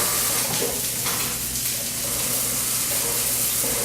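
Steak fries in a pan with a loud, steady, close sizzle that holds without a break and carries no talk.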